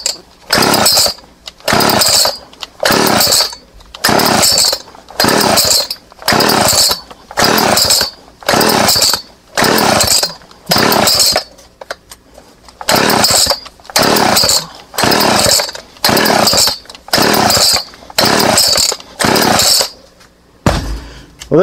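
A Homelite Super 2 chainsaw is pull-started again and again without catching, each rough ripping pull cord burst followed by a short gap in a steady, loud, repeated rhythm.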